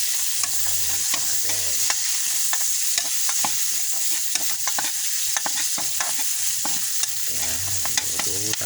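Garlic and ginger sauté in a pan of oil for a catfish and bitter gourd dish, a steady, close sizzle broken by frequent spatula scrapes and clinks of stirring throughout.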